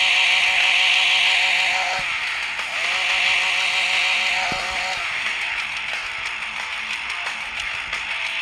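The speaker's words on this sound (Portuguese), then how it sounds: "Motosserra, né?" A chainsaw in The Walking Zombie video game buzzes steadily for several seconds, its loud motor drone rising and dipping with a few sharp knocks.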